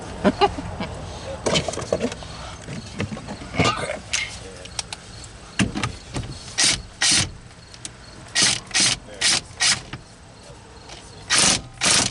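Ratchet clicks in short repeated bursts while a bolt is tightened on the steering wheel of a Chrysler Town and Country minivan during clock spring replacement, close and fairly loud, with brief talk between bursts.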